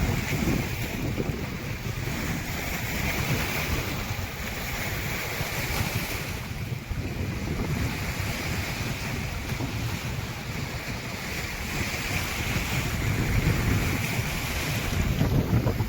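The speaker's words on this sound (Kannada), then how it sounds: "ಸಾಕಷ್ಟು ಎತ್ತರದ ಅಲೆಗಳು ಬರ್ತಾ ಇದ್ದಾವೆ" Steady wind and rushing water with high waves breaking continuously on the backwater of the full Tungabhadra Dam, Hosapete, loud and close, roaring gusts buffeting the microphone throughout, no voices.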